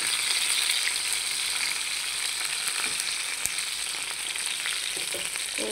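Chicken pieces fry in oil in a pan for a Bengali chicken bhuna, browned to a reddish colour, producing a loud, even, close-up sizzle with faint stirring and no voices.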